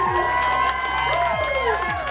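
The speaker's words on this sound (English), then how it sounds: "The OU crowd went ballistic as it gave Oklahoma a 1-score advantage in the third." A football stadium crowd roars and cheers steadily after an Oklahoma Sooners touchdown that gives OU a one-score lead in the third quarter, a dense, loud wall of voices with whoops and shouts over continuous crowd noise.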